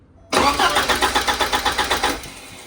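A car engine cranks with a rapid, rhythmic churning of about a dozen even pulses, then begins to catch and fade as it starts.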